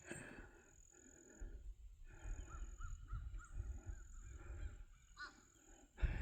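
Crows cawing in the open over a field, with short harsh calls breaking through a low rumbling outdoor background at moderate distance.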